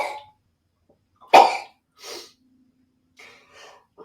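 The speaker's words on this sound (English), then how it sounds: "sorry, sneeze" One sharp, close sneeze bursts out after a quiet pause, followed by soft breathy sounds and faint noises.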